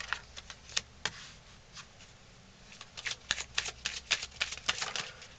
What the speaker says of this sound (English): Give me 2 cards. Give me 2 cards.